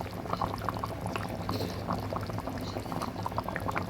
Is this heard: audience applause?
no